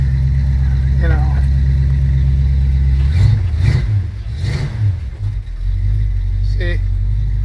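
A Ford engine runs steadily at close range after a cold start on a 27-degree morning, with the choke set a little light. It is a mismatched engine with an odd piston. A continuous low rumble swells in a couple of revs midway.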